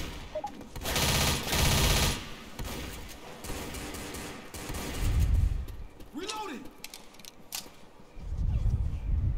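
Rapid bursts of automatic gunfire in the zombie shooter Left 4 Dead, loud and dense across the clip with short lulls, mixed with game noise and talk from players.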